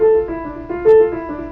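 Piano imitating a spinning wheel in Schubert's Gretchen am Spinnrade, a short passage of repeated, circling notes with a gently pulsing rhythm and a brief swell, played alone.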